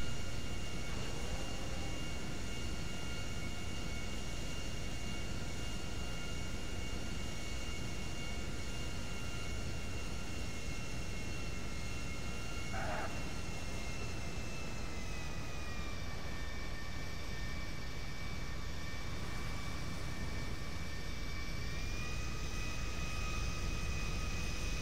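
Steady drone of an airplane approaching to land in a flight video game, a continuous even engine hum with faint tonal whine, no talking.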